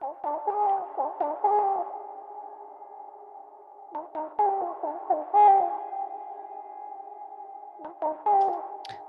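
A vocal synth sings tonal, wavering phrases in short bursts, its tail pumping and ducking through a sidechained looping reverb, with two clusters of notes separated by near-silent gaps.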